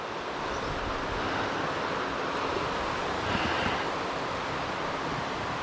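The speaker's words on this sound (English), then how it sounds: "Now the winter water's up higher, this thing really comes raging out from that other river there." A river swollen with winter high water rushes out from where it joins another river, a steady full roar with no breaks.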